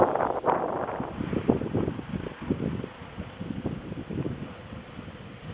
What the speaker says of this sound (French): le vent est vraiment fort